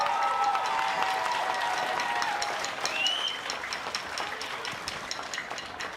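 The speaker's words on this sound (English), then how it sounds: "a huge round of applause for our amazing staff" Applause from a graduation ceremony audience honoring school staff, a sustained wash of clapping with a few whistles and cheers, steady at first and easing slightly toward the end.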